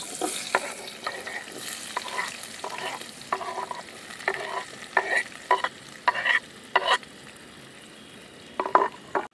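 Onions frying in a pan at a hillside night campsite, a faint background sizzle with repeated scraping stirs in short bursts, close and with no one speaking.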